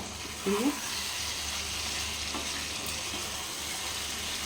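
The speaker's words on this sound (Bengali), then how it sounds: "একটু ঢাকনা দিয়ে একটু ঢাকনা দেবো এবং মাঝে নাড়াচাড়া করবো।" Mutton curry with potatoes fries in a pot, a steady close sizzle with a brief clatter of stirring near the start, then an even hiss throughout.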